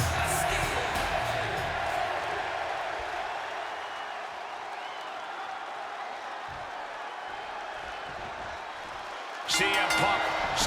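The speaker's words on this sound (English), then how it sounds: "just listen to this crowd here in Chicago" A large crowd in the wrestling video game WWE 2K26 roars and cheers continuously at a distance, a steady wash of noise with a sharper burst near the end.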